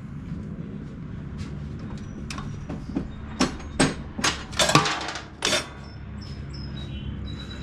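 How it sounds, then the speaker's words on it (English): A loose bolt drops out of a Cub Cadet CC30H mower's drive pulley during a belt job, giving a short cluster of sharp metallic clinks and rattles midway, close by against a quiet garage background. "I just heard something fall. The bolt fell out."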